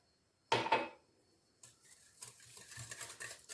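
Ingredients for chocolate-filled corn harcha dough being stirred in a bowl: a short, close scraping burst, a pause, then steadier rhythmic mixing with soft knocks against the bowl.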